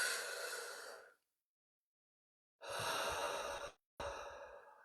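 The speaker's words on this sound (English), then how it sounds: "take a really big deep breath, full inhale." Deep, full breaths taken on request: a long airy exhale, a pause of silence, another strong breath, then a short break and a final breath out. Each one is close and clearly audible, with no speech.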